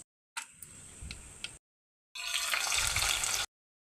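Oil goes into a cooking pan while chhole masala curry is being made, heard as two short, close bursts of hissing pour and sizzle separated by a brief silence.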